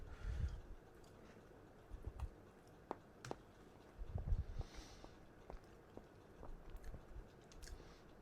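Close, moist chewing of a bite of eggy food in several irregular bursts of mastication with short pauses, fairly quiet and without talk.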